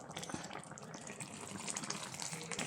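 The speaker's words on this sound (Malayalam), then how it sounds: "വാളംപുളി നീര് ഒരു നെല്ലിക്ക വലിപ്പത്തിലെടുത്തിട്ടുണ്ട്. അതിവിടെ ഒഴിച്ചു കൊടുക്കുക." Tamarind water is poured into a simmering Kerala-style pumpkin curry, giving a faint, continuous trickle and splash close by for a few seconds with no talk.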